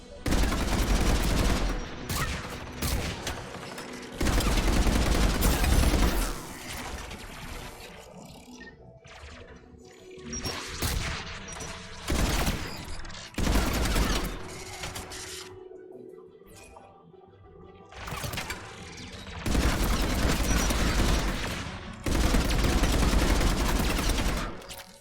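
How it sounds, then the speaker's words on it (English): Anti-aircraft guns fire in heavy bursts in Mass Effect 3, loud rapid volleys that come and go in several long stretches, with quieter gaps between them. "AA guns ahead of us."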